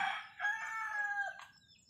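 A single rooster's crow, loud and close, a drawn-out harmonic call that trails off near the end.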